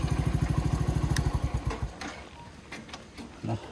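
A motorcycle idles with a rapid, throbbing beat close by on a ride to Jalbire Waterfall in Chitwan, then the engine cuts off after about two seconds, leaving quiet outdoor background with a few faint clicks.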